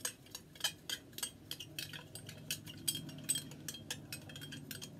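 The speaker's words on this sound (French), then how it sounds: "je mélange le soude dans l'eau" Rapid, steady clinking of a utensil against a container as caustic soda is stirred into water for homemade soap, quiet and close, with a faint low background hum and no speech.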